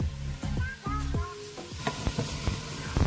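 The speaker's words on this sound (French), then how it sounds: "On fait suer, j'ai pas besoin d'obtenir une coloration. On va juste attendre que les oignons soient translucides." Shallot, garlic, a little leek and half a bell pepper sweat gently in a pan without browning, a steady close sizzle broken by several scraping stirs of a utensil.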